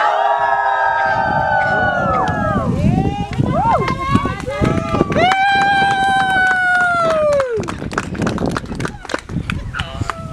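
Crowd of children at a disciplinary camp cheering and shouting in loud, sustained bursts of voices, with a near voice rising over the noise.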